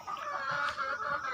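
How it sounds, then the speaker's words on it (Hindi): A broody Kadaknath hen on a Punjab farm gives low, continuous throaty clucking, fairly faint and steady, with no voices over it. "अपने परों को फुला लेती हैं और आवाज़ करती रहती हैं कुड़ कुड़ कुड़ कुड़ कुड़ की"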